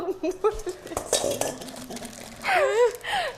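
A spoon stirs parmesan and black pepper together in a bowl with light clinks and scrapes, and voices talk near the end.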